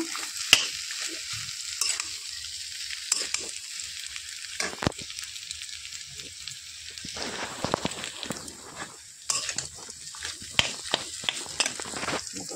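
Broiler chicken meat frying in a partly covered pan, a steady close sizzle with intermittent stirring scrapes and a few sharp spatters, with no talking.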